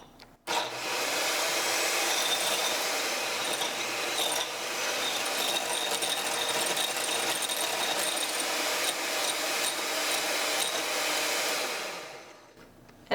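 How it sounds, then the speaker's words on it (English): Inexpensive electric home hand mixer whipping aquafaba, a continuous loud whirring drone that starts abruptly, holds steady for about twelve seconds, then cuts off. "use a hand mixer. It can be like this one, a very inexpensive home hand mixer"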